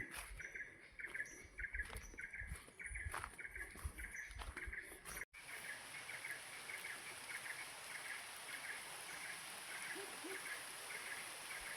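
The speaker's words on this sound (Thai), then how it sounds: "ฝนตกแล้ว" Steady rain hisses softly in the distance in a Thai forest while birds chirp now and then, with a few sharper knocks early on.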